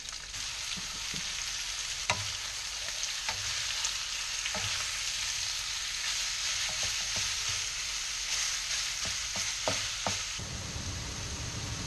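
Ground meat frying in a pan for BBQ food prep, a steady loud sizzle throughout with scattered sharp crackles and pops, no voices, the hiss dropping slightly near the end.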